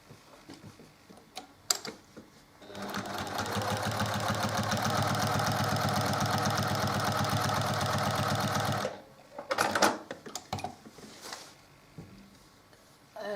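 Sewing machine stitching a split-diagonal quilt block, a close steady mechanical whir running for about six seconds, framed by small clicks and handling noises before and after.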